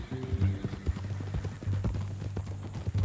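Hooves clip-clop at a steady walking rhythm in Red Dead Redemption 2, close and clear, over a low droning musical hum.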